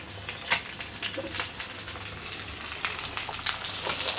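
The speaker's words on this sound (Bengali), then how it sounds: "ভুড়ি গরম করি।" Tripe frying in a pan, a steady close hiss of sizzling oil with scattered crackles and pops, moderately loud and continuous, with a faint low hum underneath.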